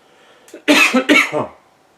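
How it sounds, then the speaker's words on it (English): A man gives a few harsh, close coughs in quick succession, loud bursts in a quiet room with no talking around them. "sorry for getting loud, but I had a cough"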